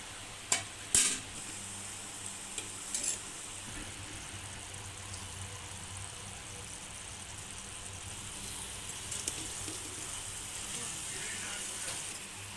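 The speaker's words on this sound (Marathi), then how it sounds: "याच्यामध्ये शेंगदाण्याचा जाडसर असा फूट घालून ते देखील परतवून घ्यायचं आहे" A mixed dill and spinach bhaji gets stir-fried with coarse peanut powder in a pan. A couple of sharp utensil knocks come at the start, then a soft, continuous sizzle and stirring carry on at low level. There is no speech.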